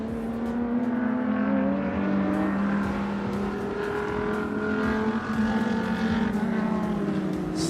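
GT race cars, including a Ferrari and an Audi, lapping Sepang International Circuit during qualifying, a loud, sustained engine drone with shifting pitch as a car holds revs and then eases down, steady throughout.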